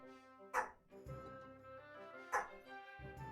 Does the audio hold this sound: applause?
no